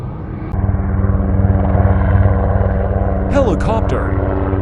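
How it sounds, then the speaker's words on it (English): A helicopter at Bergen Flesland airport in Norway throbs loudly and close in a rapid, steady rotor beat, joined near the end by a voice speaking over it. "Helicopter."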